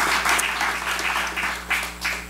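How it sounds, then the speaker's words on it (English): Short burst of audience applause for a panel at a colloquium on #MeToo and women in the workplace, steady clapping from a modest room crowd over a low hum. "a round of applause for the whole panel"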